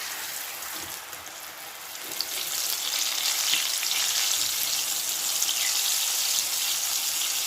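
Garlic fries slowly in oil as tempering for a tomato pickle. A dense, continuous sizzle swells after a quieter start and stays loud and even throughout, with no talking.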